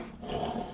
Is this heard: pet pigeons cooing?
no